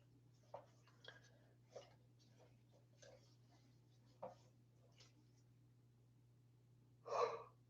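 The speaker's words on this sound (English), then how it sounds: "That's already like my third yawn." A painter's yawn during a live alla prima flower painting session, a single drawn-out breathy swell near the end, following a few faint clicks and breaths over a steady low hum.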